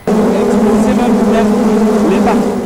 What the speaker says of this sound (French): un accueil chaleureux nous réservé par cette colonie d'abeilles à la garde de la provision